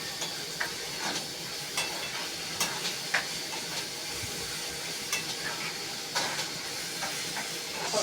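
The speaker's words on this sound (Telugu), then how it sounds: "ఉల్లిపాయ ఫ్రై అవ్వాలి" Onions frying in a pan for a mutton and drumstick curry, with turmeric added: a steady broadband sizzle with faint scrapes of stirring now and then, close and fairly loud, with no talk.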